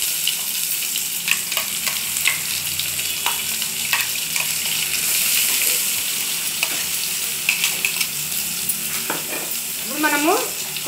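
A tempering of curry leaves, dried chillies, chana dal and mustard seeds fries in hot oil for a cucumber chutney, a steady sizzle dotted with crackles and stirring scrapes, with a brief squeaky scrape near the end.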